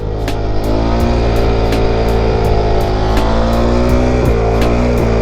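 KTM motorcycle engine revving continuously under throttle, a loud, close, steady drone whose pitch rises and falls with short blips, with no talk over it.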